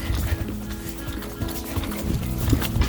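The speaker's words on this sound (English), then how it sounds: "We're gonna ask for a little trot." A horse trots along an outdoor trail, its hooves giving a steady rhythmic clip-clop under rustling ground noise and movement, close by.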